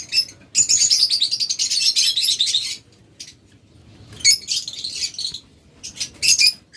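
Lovebirds chirp loudly nearby in dense, shrill runs of tweets, one long burst followed by scattered shorter volleys, with no speech.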